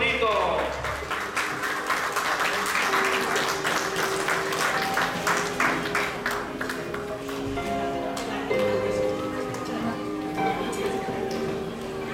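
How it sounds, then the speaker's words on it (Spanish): A crowd applauds at a quinceañera celebration, with dense, sustained clapping from many guests at moderate distance, under music and a person talking. "recibámosle con un fuerte y caluroso aplauso"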